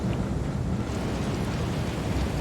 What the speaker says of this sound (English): Because of the fact that it's just so windy, you're kind of leaning into the wind.